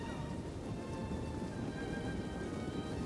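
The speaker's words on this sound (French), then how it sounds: "un orage éclate" A thunderstorm pours heavy rain over a battlefield, a dense, steady hiss of drops with a low rumble underneath, continuous and close with no voices.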